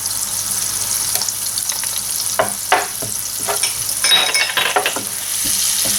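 Garlic and ginger sizzle and fry in melted butter for Filipino sisig, a steady close crackle with occasional clinks and scrapes of a utensil stirring the pan, heard alone without talk.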